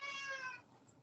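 A house cat gives a single short, fairly faint meow, tonal and slightly drawn out, alone in a quiet room.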